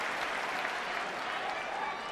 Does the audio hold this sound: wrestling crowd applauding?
yes